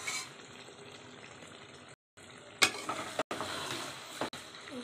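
Meat curry with potatoes, its oil already separating, sizzles and fries steadily in a covered pot. The hiss breaks off for brief moments, followed by a few louder clattery bursts of stirring.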